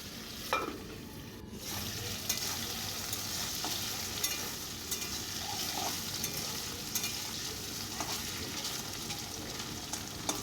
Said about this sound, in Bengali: প্রথমে আলু আর কচুটা ভেজে নেব